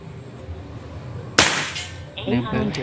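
A single sharp, close crack from a PCP air rifle snaps out over quiet background, trailing off quickly, followed by faint voices.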